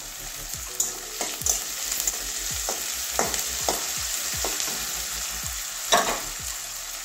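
Onions sizzling in a pan with salt, a steady fry hiss broken by repeated scraping stirs and clinks of the spoon against the pan, close and alone.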